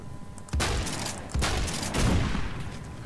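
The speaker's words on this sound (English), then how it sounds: "Oh, they're shooting me." Rapid bursts of gunfire in Roblox Phantom Forces, a first-person shooter, with three loud volleys arriving close together and sustained crackling between them.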